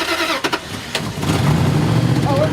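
A Dakota truck engine cranks with a few short bursts, then catches and settles into a steady, fairly loud low rumble, close by, with voices of people talking over the start.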